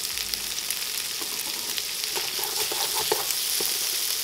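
A sausage frying with sweating garlic in a pan, a continuous bright sizzle with light pops and occasional stirring taps, moderately loud and close, no voices.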